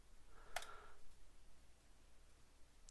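One crisp computer mouse click, close and faint, verifying a log in dashboard software; quiet room tone follows.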